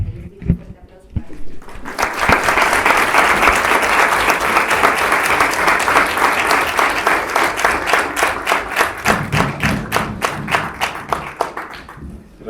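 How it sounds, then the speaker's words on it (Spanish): A live audience applauds to welcome Christian Duverger before his talk on Cortés and mestizaje; a voice speaks briefly at the start, then dense, steady clapping swells and holds for about ten seconds before tapering off. "Les pido un fuerte aplauso para"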